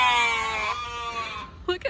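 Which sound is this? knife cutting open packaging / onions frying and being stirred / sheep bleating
sheep bleating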